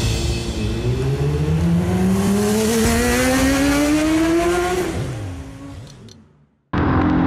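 A motorcycle rides along at night, its engine note climbing steadily through the gears, loud and close, then easing off and dropping away to near silence before the engine noise cuts back in.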